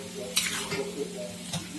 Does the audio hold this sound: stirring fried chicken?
yes